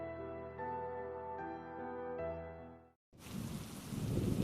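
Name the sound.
rain with thunder, story sound effect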